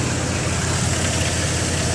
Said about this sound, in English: It idles smoothly.